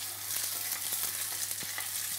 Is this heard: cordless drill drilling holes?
no